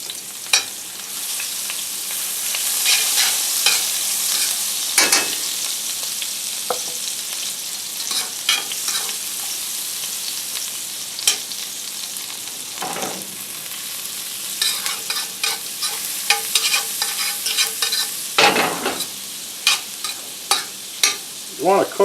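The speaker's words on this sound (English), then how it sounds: "You want to cook the garlic and shallots until they're just lightly browned" Minced shallots and garlic sautéing in a cast iron pan, a loud steady sizzle with intermittent scraping stirs and taps of a utensil, growing busier toward the end.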